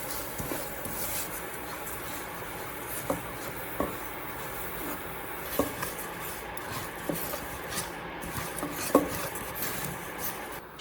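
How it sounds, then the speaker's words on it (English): Black sesame seeds toasting in a dry pan over gentle heat, with soft scraping and light stirring, faint rustling, and occasional small clinks against the pan under a quiet, steady background. "After rinsing, she slowly toasts the sesame in a dry pan over gentle heat."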